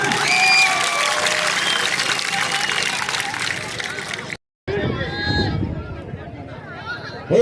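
Crowd at an outdoor malakhro wrestling match in Goth Bashir Shah, Karachi, claps and cheers amid a noisy babble of voices, broken by a brief cut before the open-air crowd noise and shouting resume.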